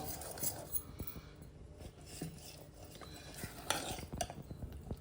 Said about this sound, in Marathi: आणि आता हे आपण छान ढवळून घेणार